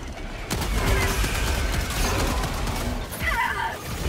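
A barrage of air strike explosions in Helldivers 2, a suicide-difficulty mission against bugs, arriving as a sustained dense rumble of blasts with crashing debris over about four seconds, loud and close.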